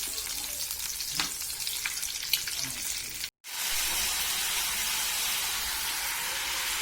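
Eggs frying in a pan make a soft, continuous sizzle heard close up, with a brief cut partway through before the steady crackle resumes.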